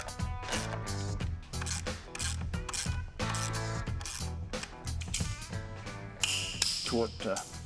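A ratchet clicks quickly and repeatedly as it tightens bolts to torque during work on a slammed C10 truck, giving a continuous mechanical rattle in short bursts at close range.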